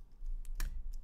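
A few quick key presses on a computer keyboard, sharp close clicks spaced unevenly within about a second, with no speech.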